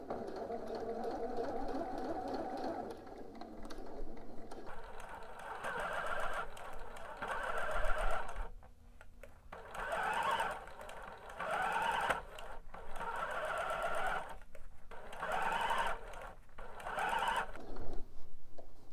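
A sewing machine stitches bodice fabric in repeated bursts of whirring, starting and stopping at intervals with short pauses between, close and moderately quiet.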